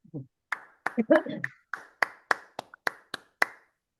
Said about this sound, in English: Please unmute and give a round of applause for Sheila Aldous.